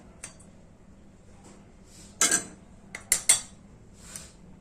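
Cluster bean bhaji being stirred in a pan, a few sharp metal clinks and scrapes of the spoon against the pan, spaced out and fairly close, over a quiet background.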